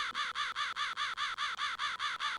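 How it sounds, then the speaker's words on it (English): A bird cawing in the Swords & Bones video game, a rapid, regular run of about a dozen harsh crow-like caws, steady and close, with no talk. "So now you can hear two different bird sounds"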